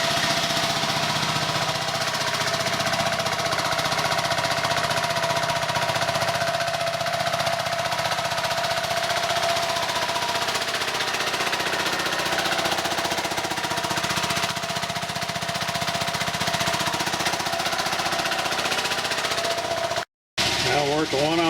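A generator engine runs steadily while charging a 48 volt LiFePo4 battery bank, a loud continuous mechanical drone with a rattling, knocking texture that holds throughout, broken by a brief dropout near the end.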